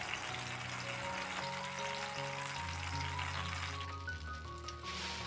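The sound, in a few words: blended spice paste frying in hot oil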